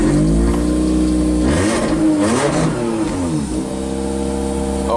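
Toyota Celica 2.0 ST cranks and fires on a cold start after two years parked with hardly any fuel, then its mid-pitched engine revs up and settles into a steady, close, loud idle with no talking.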